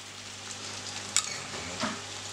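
Golden onions and crushed spices sizzle steadily in a hot pan while a utensil stirs them, giving a couple of brief scrapes over the constant frying hiss. No one speaks.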